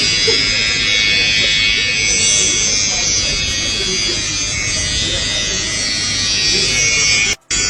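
A small electric machine peels an orange with a steady, loud buzzing whir that runs almost without a break, cutting out abruptly near the end.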